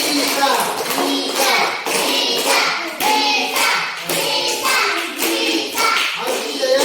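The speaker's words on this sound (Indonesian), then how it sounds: "Ayo, coba kasih aplaus untuk kamu lagi." A classroom of children claps in applause, bursts of quick hand claps rising and falling in waves at close range, mixed with children's chatter and voices throughout.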